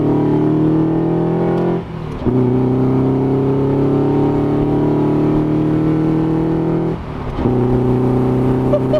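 A Subaru-powered Mazda Miata pulls wide open in second gear, its loud nearby engine note climbing steadily, dipping briefly twice at shifts or lifts before surging again.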